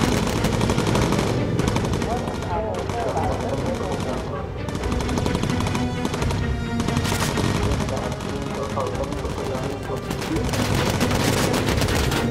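Anti-aircraft fire in Bomber Crew pounds on without a break, a loud, dense stream of bursts and explosions that fills every moment.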